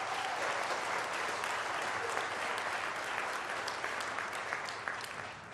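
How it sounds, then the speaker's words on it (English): Sustained, steady applause from a large audience at a school system address fills the whole stretch, with no speech over it. "that's definitely worth another round of applause"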